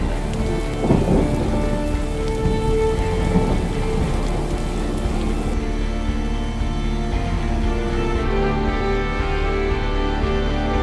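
Heavy rain with rolling thunder on a Formula 1 race day, a dense, steady downpour that holds loud and unbroken throughout, with no voices.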